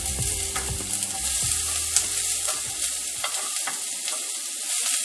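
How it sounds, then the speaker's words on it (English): Chicken sizzles loudly in a hot pan, a steady crackling hiss with scraping stir sounds, the low rumble dropping away near the end. "Get that sizzle in."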